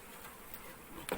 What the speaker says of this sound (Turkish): bu niye böyle bu arılar çok?